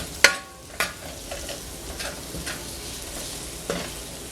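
Chopped chives, green onions and parsley are stirred in a hot frying pan: a few sharp scraping clacks of a utensil against the pan over a soft, continuous sizzle, close up with no talking.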